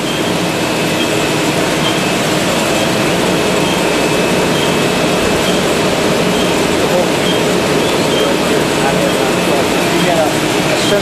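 A Ryobi 524 offset printing press with a suspension feeder, set up for 9 x 12 envelopes, runs with a loud, steady mechanical roar and whir that holds constant throughout.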